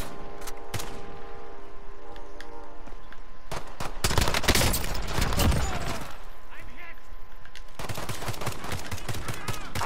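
Gunfire in Modern Warfare rattles in rapid bursts, sparse at first and then heavy, loud, sustained volleys in the middle and again near the end, with game music and voices mixed in.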